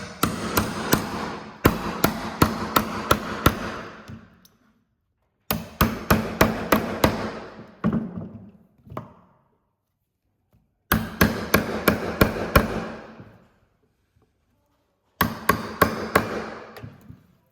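A hammer drives a chisel into a rough timber beam to cut a lap joint, landing in four bursts of rapid, sharp, ringing blows separated by pauses, loud and close.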